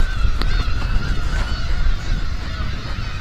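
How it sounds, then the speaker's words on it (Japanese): A dense, loud din of black-tailed gulls calling nonstop at a shrine in Aomori that the birds have overrun, with many overlapping cries close by and no voices. "なんか鳥の鳴き声すんげえうっせんですけど。"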